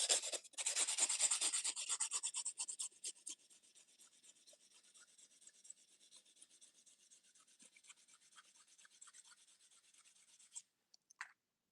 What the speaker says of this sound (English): when you cut a sharp piece like that, you can just kind of sand it down a little bit